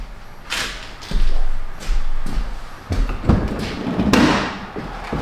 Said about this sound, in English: That's the door check. I'm not slamming his door, the door check's broken.